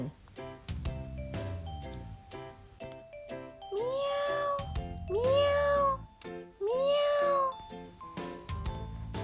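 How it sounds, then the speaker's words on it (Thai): A cat gives three drawn-out, rising meows, loud and close, separated by short pauses amid clattering and tinkling sounds. "แมว แมวเป็นสัตว์เลี้ยงลูกด้วยนม เป็นสัตว์กินเนื้อ"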